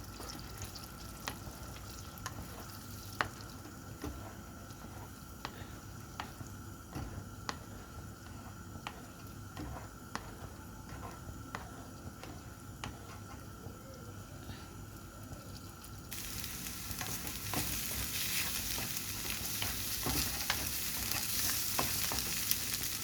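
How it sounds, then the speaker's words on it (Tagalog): An egg fries in a pan with cabbage and garlic, giving a faint, steady sizzle dotted with small ticks and taps that grows noticeably louder and brighter in the final stretch. "lutuin natin ang ating itlog"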